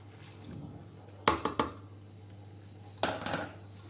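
Utensils clink and scrape against a bowl while chopped ingredients are mixed into a kofta filling for Moroccan briouats, two short clattering bursts over a steady low hum.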